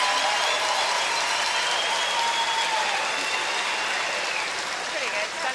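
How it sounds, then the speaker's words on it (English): A crowd roars and applauds for Jennifer Jones at the Ford World Women's Curling Championships semi-final, Canada v United States. The loud, dense cheering runs unbroken throughout. "Massive cheer from the crowd for Jennifer Jones"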